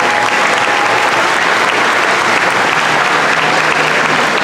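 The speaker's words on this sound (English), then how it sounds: "A round of applause for this year's graduating class and their escort." Loud, dense applause fills a school graduation ceremony hall as the audience claps for the graduating class and their escorts, constant and unbroken.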